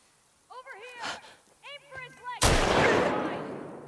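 A single loud, close gunshot cracks out right after shouting voices in a tense The Last of Us scene, its blast tailing off into a lingering echo.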